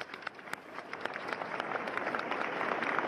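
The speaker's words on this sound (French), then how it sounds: "Un grand silence rompu par des applaudissements nourris." A large crowd lining a funeral procession route in France breaks into sustained applause, distant and fairly faint, the sharp scattered claps thickening into a steady rising patter.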